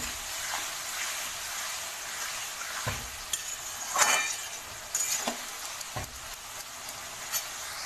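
Paneer and vegetables sizzle in a pan under a steady hiss, broken by a few scraping clatters from stirring.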